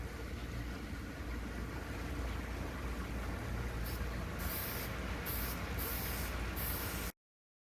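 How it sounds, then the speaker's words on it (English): Continuous hissing spray from an aerosol can of clear coat runs steadily for several seconds, with a few short sharper bursts near the end before it cuts off. "apply some clear coat to it to protect it. Kind of like spray paint."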